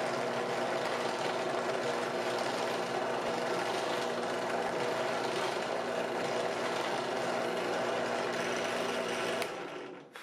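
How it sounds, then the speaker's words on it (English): Steady, loud machine whine of a 3/32 inch drill bit cutting out letters in plywood for a Cubs ornament, running continuously for about nine seconds and then stopping, with no talk. "I used a 3/32 inch drill bit to start cutting out the letters."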